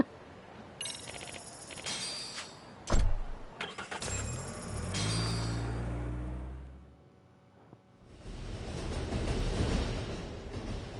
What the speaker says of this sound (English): Riding in a taxi all day.